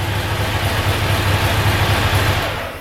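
A Ducati Monster motorcycle engine runs in first gear with a steady, loud, close rumble that starts to fade in the final moments as the engine dies.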